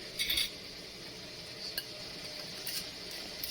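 A metal lid lands on a glass canning jar of corn cob jelly, giving a brief cluster of light clinks near the start and faint taps later against a quiet background.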